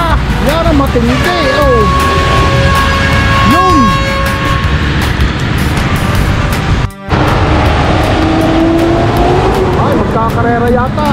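Cars race along a flooded road in typhoon wind and rain in Batangas, engines revving and passing with splashing roar. Sirens warble early and late, and voices are heard over the continuous heavy noise.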